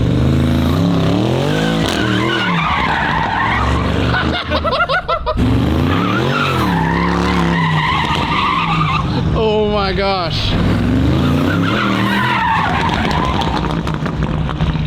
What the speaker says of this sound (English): It seems like it's spinning all the tires.